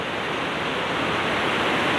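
River water flowing beneath a village bridge after a night of rain, a steady broadband rush of moderate loudness with no breaks and no voices.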